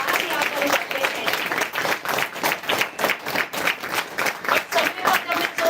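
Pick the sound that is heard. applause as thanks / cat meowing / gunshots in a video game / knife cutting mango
applause as thanks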